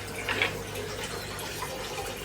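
Tank water is poured into a small feeding container for baby map turtles, giving a steady, soft, close trickle with a slightly stronger splash at the start.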